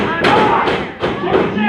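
In a tag team wrestling match, several sharp thuds land in quick succession, including a kick to the chest, loud and close, with a voice talking over them.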